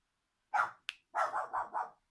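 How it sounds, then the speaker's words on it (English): A dog barks at a passer-by: one bark, a brief yip, then a quick run of four barks in steady rhythm. It is fairly near but not loud, with silence around it. "The dog's barking."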